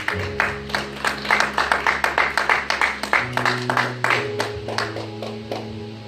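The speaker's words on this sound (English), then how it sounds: "Come on, let's give y'all a hand clap of praise" A church congregation claps in praise, a steady run of sharp hand claps at a moderate tempo that continues throughout, with sustained organ or keyboard tones underneath.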